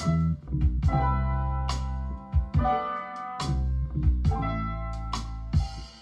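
Piano chords with bass and drums captured on a phone mic, sounding boxy and slightly lo-fi, steady rhythmic playing with clear hits.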